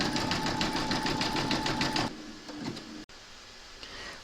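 An embroidery machine sews a satin stitch around the edge of a koala applique head, a dense, fast, even mechanical rattle for about two seconds, then stopping and leaving quieter, scattered machine noises.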